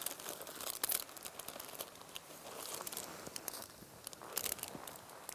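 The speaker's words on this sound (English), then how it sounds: "you take it out of the bag." A field blank sample is pulled out of its plastic bag, producing continuous close crinkling and rustling with sharper crackles near the start and toward the end, with no talk.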